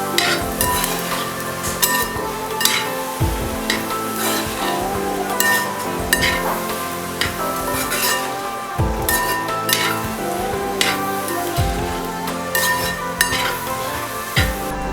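Clam meat sizzles and fries in a pan while being stirred for a spicy pickle, with steady crackling broken by repeated clinks and scrapes of a spoon against the pan, close and continuous throughout.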